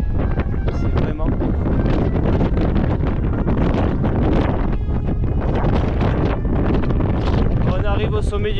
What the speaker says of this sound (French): Il y a un vent tempétueux, il pleut un peu,